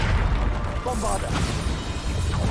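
Bombarda blast spell from Hogwarts Legacy, a loud booming burst with crackling debris over a dense game soundscape, with a voice briefly heard.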